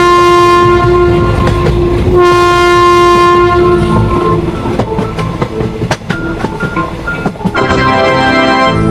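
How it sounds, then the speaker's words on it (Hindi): A cartoon train pulling away from a station sounds a long steady horn blast, then rolls off with rhythmic clickety-clack of wheels and rattling cars, loud and close, the horn returning briefly near the end. "जैसे ही सोन इतना कहता है तभी ये ट्रेन यहाँ से जाने लगती है।"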